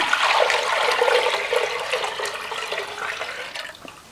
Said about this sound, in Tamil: இப்போ எட்டு டம்ளர் தண்ணி ஊற்றிக்கலாங்க